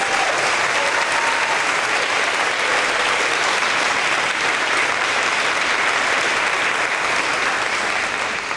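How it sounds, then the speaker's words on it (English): Sustained audience applause for fifth grade students at an elementary school promotion ceremony, steady and dense clapping filling the whole stretch without a break. "Please give these students a round of applause."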